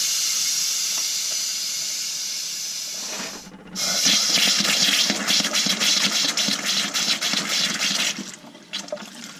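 Air hisses out of an off-grid wood stove hot water system as it is bled, first a steady hiss, then a brief pause and a louder sputtering, gurgling spray of air and water that cuts off near the end.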